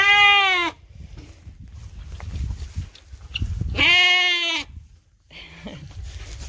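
Sheep bleat loudly and close by in two drawn-out, wavering calls, separated by quieter stretches of low rustling and movement from puppies nearby.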